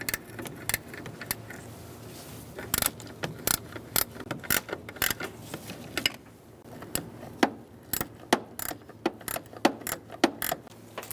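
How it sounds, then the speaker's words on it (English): A 15 mm ratchet wrench clicks while working on the brake master cylinder of a 1998-2011 Ford Ranger. Close, sharp metallic clicks and taps come in irregular bursts with short pauses, and no one speaks. "I'm going to use my ratchet wrench first. It's a 15 millimeter."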